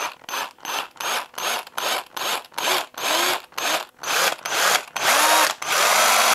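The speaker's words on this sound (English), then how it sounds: "I'm going to go ahead and drill some little temporary holes where the tie-on eye is going to be" A small power drill bores little holes in a wooden jerkbait lure, its motor whirring in a dozen short, loud bursts that quicken and lengthen toward the end, with no talking.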